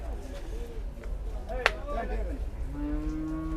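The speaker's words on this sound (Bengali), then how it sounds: "এই যে সুন্দর একটা লাল গরু" A young red cow at a cattle market lets out a nearby drawn-out moo toward the end, amid someone talking and busy market background noise.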